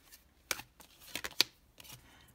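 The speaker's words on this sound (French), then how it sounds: "Allez, c'est parti, on pose les 6 cartes." Six tarot cards being laid out on a table: a series of soft, close card snaps and slaps in an uneven rhythm, quiet between placements.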